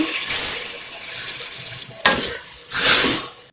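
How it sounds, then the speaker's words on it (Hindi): Water pours in uneven splashing bursts into a pressure cooker holding daal for a mash dish: a loud gush, a pause, then two more close, strong pours. "आधा कप पानी डालूंगी।"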